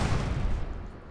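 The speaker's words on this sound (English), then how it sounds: "We got that firework effect again" A muffled burst of firework-style crackling bangs from a modded pistol in Fallout 4, a loud low thump that trails off into a fading rumble within about a second.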